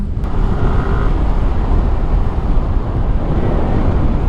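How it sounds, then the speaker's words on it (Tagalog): Yamaha NMAX v3 scooter engine running steadily during a ride, a loud constant rumble mixed with wind buffeting on the microphone. "ganda ang lakas ng makina"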